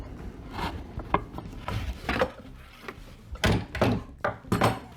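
A clamp is ratcheted tight on shelving in a series of short, close mechanical clicks and creaks. The bursts come unevenly, several in quick succession with brief gaps between.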